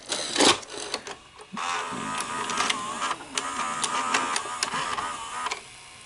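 A Sony SLV-R5UC S-VHS VCR runs its mechanism with a steady whirring, clattering mechanical hum, marked by a sharp clunk near the start and several faint clicks, heard up close with no talking.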